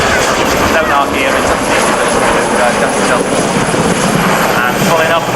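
A helicopter pulls up into a hover and spirals upward at the 1995 Leicester airshow, a loud, steady rotor and engine roar filling the whole stretch with a faint whine above, while a commentator talks over it.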